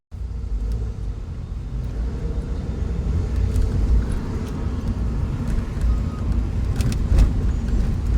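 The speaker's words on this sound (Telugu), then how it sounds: "కానీ చాలా ట్రాఫిక్ ఉంది." Busy road traffic near a Walmart store in Canada, a steady low rumble of car engines and tyres with vehicles passing close by, continuous and fairly loud, with no voices.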